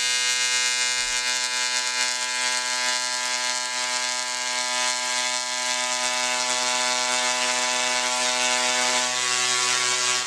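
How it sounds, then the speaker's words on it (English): A large DRSSTC Tesla coil arcs into a methanol and boric acid flame, a loud, harsh buzzing tone rich in harmonics that holds steady throughout after a brief low rumble at the start. "So let's see what happens when we crank up the Tesla coil."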